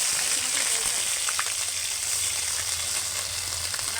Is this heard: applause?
no